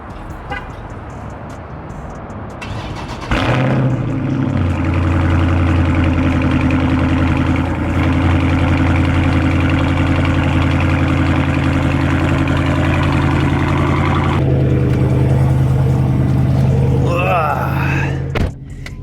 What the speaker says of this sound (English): you already know we got to get a little cold start